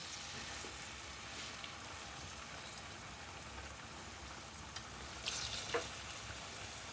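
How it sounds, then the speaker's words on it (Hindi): Steady hiss and crackle of onions frying in about a cup of hot oil for chicken haleem, continuous and fairly close, with a couple of brief clinks near the end. "ऑयल डालेंगे तकरीबन 1 कप ऑयल डाल के इसमें प्याज ऐड कर देंगे सबसे पहले"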